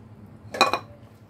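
Fried, partly boiled potato pieces tipped into a cooking pan, a brief clatter and metallic clink of utensil against pan lasting under half a second, close and clear over faint background hum.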